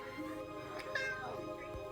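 A cartoonish cat meow plays as the Alley Cat card comes up in Magic Arena, a short rising-falling call set over steady game music and sound effects.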